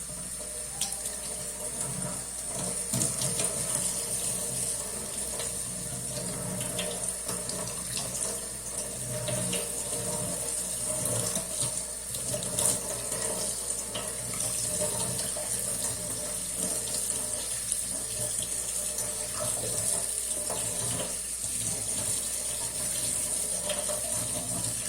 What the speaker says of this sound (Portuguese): E eu vou lavar no escorredor para garantir, né, que a água escorra